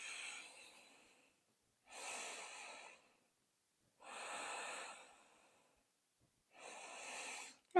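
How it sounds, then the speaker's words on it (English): Slow, deep yoga breaths, close and quiet, four long airy exhalations spaced evenly with silent pauses between them. "Breathing into the core."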